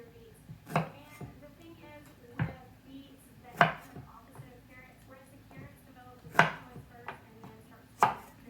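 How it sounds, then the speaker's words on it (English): Knife chopping zucchini into halves and little moon shapes on a cutting board, several sharp separate chops at an uneven pace, close and fairly loud, with faint background sound between strikes. "I pull like 3 together and then I cut them into halves and make like little moon shapes."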